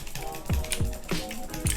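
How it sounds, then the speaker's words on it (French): A mechanical keyboard with blue switches clicking, a few sharp, close keystrokes at irregular intervals with crisp clacks and no talking. "Le clavier est très mécanique comme vous pouvez l'entendre."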